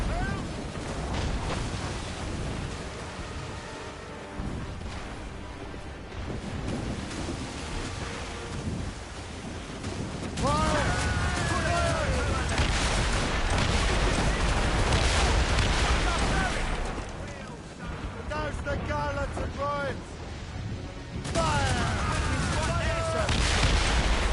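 Ship cannons firing during a naval battle in Assassin's Creed Rogue, repeated heavy booms rolling over roaring wind and sea noise, with shouting voices over the barrage.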